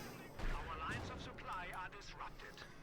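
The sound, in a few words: grenade and sniper fire in Company of Heroes 2 video game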